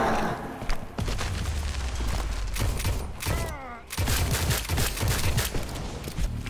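Call of Duty Zombies gunfire: rapid, loud volleys of shots with booming low impacts fill the stretch, briefly broken by a short lull, and a voice is heard at times.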